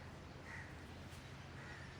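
Crows caw faintly at a distance, two short calls spaced apart, as birds gather to eat sev put out after a morning puja, over a quiet outdoor background.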